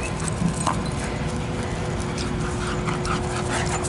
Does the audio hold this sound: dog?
yes